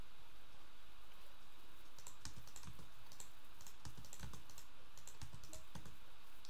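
Computer keyboard typing and mouse clicking while modding Age of History 2, a quiet run of irregular close taps and clicks over faint steady hiss.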